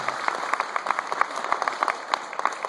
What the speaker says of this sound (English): one more big round of applause for a great guy